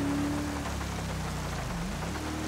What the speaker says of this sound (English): Rainy day here in San Andreas.